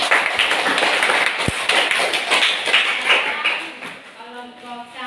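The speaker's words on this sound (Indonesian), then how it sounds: "berikan aplaus dulu" A classroom of students applauds after a group presentation, a dense burst of clapping that fades over several seconds as a voice begins speaking near the end.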